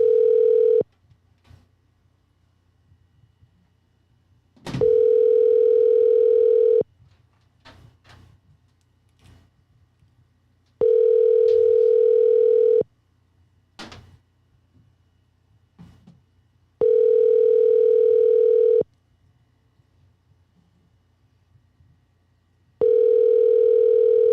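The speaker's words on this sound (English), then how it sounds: "we're going to give him a call now" An outgoing telephone call rings on the line, a steady electronic ring tone repeating about every six seconds with silent gaps between, clear and alone with faint background clicks.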